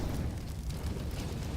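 Molotov fire igniting in a Counter-Strike match on a staircase: a dense, steady roaring burn with crackling bursts, loud and continuous throughout.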